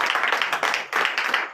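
A congregation claps and cheers in acclamation at a night deliverance prayer service in Comè, Benin, in bursts of dense, steady applause that swell and dip over a moment.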